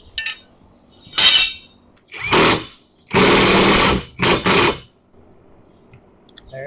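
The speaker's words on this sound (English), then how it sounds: "this ain't taking no time with this little impact wrench" A small impact wrench fastens mower blade bolts, several loud rattling bursts of a second or so each, separated by quiet pauses, close up.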